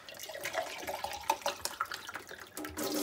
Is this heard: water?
yes